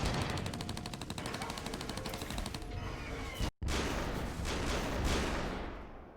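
Rapid gunfire from artillery units in the AirMech video game, a dense run of loud repeated shots for about three seconds, then a brief dropout and a steady roar of continued battle noise.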